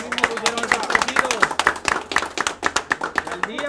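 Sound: audience applauding the truck owners

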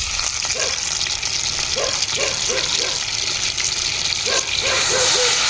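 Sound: marinated chicken frying in hot oil

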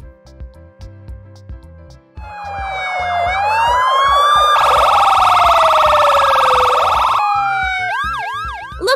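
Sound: police car siren

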